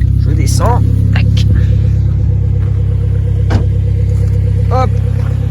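Loud, close engine rumble of a Renault Clio 4 RS fitted with a stainless exhaust line, running steadily with a few sharp transient cracks that could be exhaust pops, while people talk over it.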